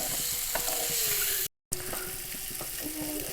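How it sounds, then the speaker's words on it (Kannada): Eggs sizzle and fry in ghee for a Mangalorean egg ghee roast, a steady close hissing crackle with faint stirring and scraping, cut by a brief gap of silence partway through. "ಒಳ್ಳೆ ಈ ರೀತಿ ಫ್ರೈ ಆಗ್ತಾ ಇರಬೇಕು ಫ್ರೆಂಡ್ಸ್. ಫಸ್ಟ್ ಕ್ಲಾಸ್ ಆಗಿ ಫ್ರೈ ಆಗಬೇಕು."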